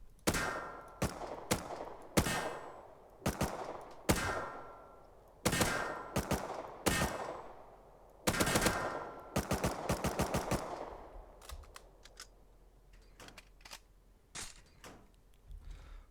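MP5 submachine gun fired in the video game Rust, sharp bursts and single shots at close range in an irregular rhythm, loud bursts dominating early and fading to sparser, quieter shots toward the end, with no talking.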